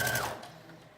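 A sewing machine runs on a long stitch through fabric for a McCall's 7569 mermaid prom dress, a brief steady mechanical whir that fades by the end, with no talking.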